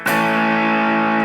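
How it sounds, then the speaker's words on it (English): Electric guitar played through a Walrus Audio Deep 6 compressor pedal, a single sustained chord ringing evenly and fairly loud for over a second, then cutting off with a brief pick or string noise at the end. "all you're really hearing is just the compressor, the Deep 6 compressor"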